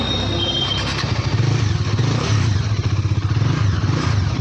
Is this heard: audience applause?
no